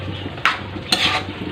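A metal cooking pot of pinakbet being uncovered, two sharp clanks of the lid against the pot a half second apart, close and bright over a faint kitchen hum.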